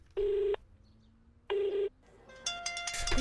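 A phone keypad sounds as a number is dialed: two long, separate button beeps, then a run of quicker electronic tones building toward the end.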